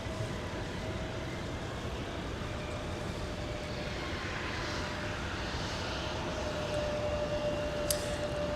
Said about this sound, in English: Delta Flight 1106 with a Boeing 717